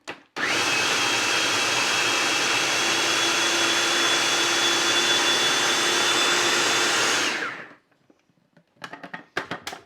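A loud, steady blender whir puréeing a mango and habanero sauce runs for about seven seconds, then cuts off abruptly, leaving a few faint clatters and knocks.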